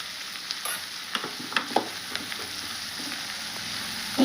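Shredded cabbage with a pinch of turmeric frying in a pan: a steady close sizzle broken by irregular scrapes and taps of a spatula as it is stirred, with no voices.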